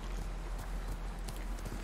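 Horse hooves clip-clop in the video game Ghost of Tsushima, a soft, steady patter of steps at moderate distance under faint game ambience, with no speech.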